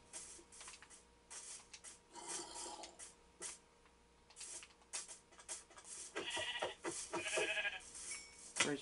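Sheep bleat in the Minecraft video game, several scattered, wavering bleats of varying loudness mixed with soft rustling and game sounds, growing busier toward the end.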